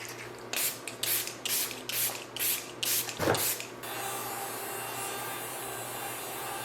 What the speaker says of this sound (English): let's set our face with the setting spray